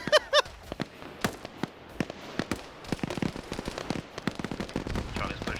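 Gunfire in a trench warfare video game as troops shoot at mines: scattered sharp shots and bursts, some close and loud, others distant, with voices talking over the firing.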